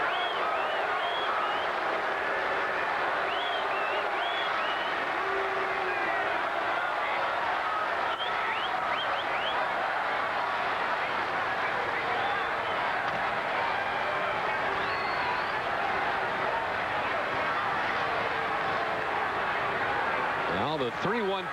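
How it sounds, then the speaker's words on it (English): A baseball crowd at a Boston at Baltimore game applauds steadily as the sun returns after a passing shower, a sustained distant wash of clapping and cheering under continuous commentary. "Big round of applause from the crowd as the sun comes back out."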